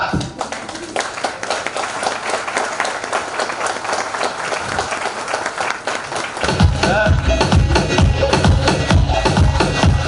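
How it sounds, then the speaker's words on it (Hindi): A seminar audience claps loudly as a guest is invited on stage, with dense applause that grows heavier and fuller midway as more hands join in. "जोरदार तालियों के साथ"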